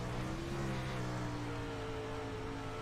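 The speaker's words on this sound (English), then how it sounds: "listen to that motor. He is not lifting." A dirt-track race car engine drones at a steady high pitch at full throttle, loud and sustained without letting up, with a slight shift in tone midway.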